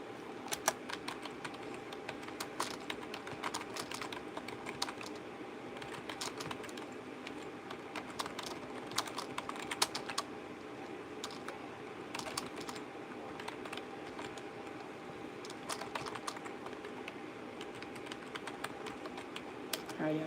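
Fingers type steadily on a computer keyboard during a quiet writing session, with quick clusters of soft clicks and short pauses recurring throughout, close and moderately faint.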